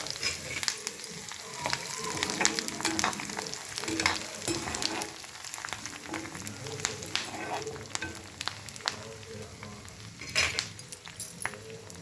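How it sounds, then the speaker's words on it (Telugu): Steady crackling sizzle of tempering spices, including curry leaves and dried red chillies, frying in hot oil, with sharp pops and spatters throughout, close and fairly loud. "ఇప్పుడు పోపు వేసుకుందామండి."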